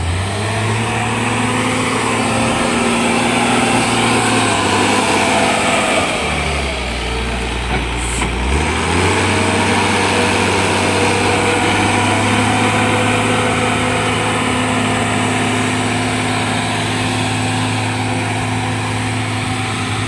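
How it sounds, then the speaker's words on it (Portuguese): Homemade small transmission machine running under power: a loud, steady engine drone holds throughout, briefly dipping and straining in pitch midway as if loaded, then settling back to an even run. "Transmissãozinha ficou ajeitada, hein?"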